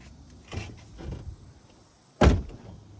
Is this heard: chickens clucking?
no